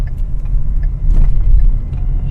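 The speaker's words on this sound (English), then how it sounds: "My car." A car driving during a live storm chase, with a steady low rumble of road and engine noise that swells slightly midway, loud and continuous with no talk.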